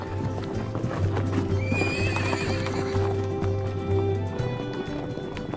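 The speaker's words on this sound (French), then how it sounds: "Il y a des chevaux et des taureaux, des chevaux de race Camargue" Camargue horses in the Camargue, southern France, neigh loudly and clearly while hooves clip-clop steadily underneath, all close by over a constant outdoor background.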